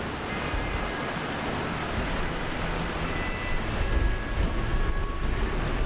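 Flood water rushes steadily down a river at an old mill race, a loud, unbroken roar of turbulent flow that surges slightly heavier toward the end.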